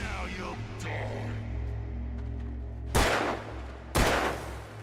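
Two loud, close gunshots crack about a second apart in Alan Wake Remastered, each a sharp broadband blast over a steady low game ambience, with no talking.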